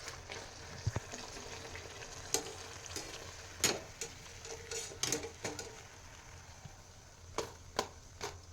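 A second sheet of pakwan dough frying in hot oil: a constant low bubbling sizzle broken by sharp crackling pops and occasional clicks, heard close up with no voices.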